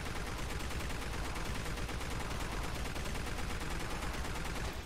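Continuous rapid automatic gunfire from DOOM 3 VR Edition, loud and unbroken, a dense stream of shots with no talking over it.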